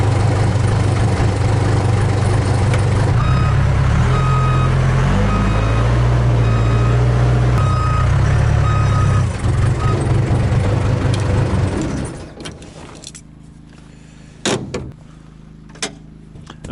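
A backhoe's reversing alarm beeps in a steady, evenly spaced series over its loud rumbling idle engine, which then cuts off, leaving a few clunks in near quiet.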